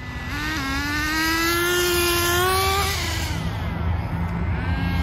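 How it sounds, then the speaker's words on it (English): The VX18 nitro engine of an HSP 1:10 on-road touring car revs high and loud, rising in pitch and then dropping off, with a buzzing whine throughout. "This VX18 motor, it pulls."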